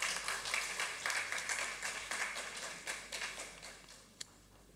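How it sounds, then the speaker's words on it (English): An audience at a college session at St. Xavier's College, Kolkata applauds the speaker and chairperson, a dense, moderately distant wash of clapping that slowly thins toward the end, with a single sharp clap near the close. "Please let us give a round of applause for our respected speaker and chairperson."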